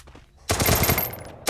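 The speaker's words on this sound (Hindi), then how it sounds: "कौन सा गन चला रहे हैं" Automatic gunfire in the mobile battle royale game Free Fire, a loud rapid burst of rattling shots after a quiet moment, then a second burst starting abruptly.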